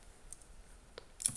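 Sparse key clicks on a computer keyboard while typing an address on a Linux computer: three quiet, separate taps spaced out over a moment, close and dry, with no talking.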